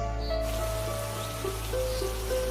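Steady rain in a cartoon story, falling while a farmer's son walks a forest path toward the city, a constant wash of noise under faint melodic tones with no talk.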